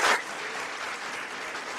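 Graduates are applauded at a June 2024 graduation ceremony in London, with steady clapping from an audience that starts with a brief louder burst and then holds an even, moderate level.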